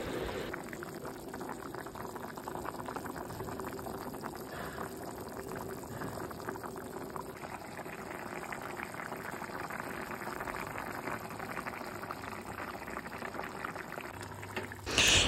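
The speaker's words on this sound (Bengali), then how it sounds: "সেই জলটা এবারে মাংসের মধ্যে দিয়ে দিচ্ছি।" Hot water poured into simmering meat curry for a thin summer mutton jhol, a steady bubbling, pouring wash running throughout at moderate loudness with no speech.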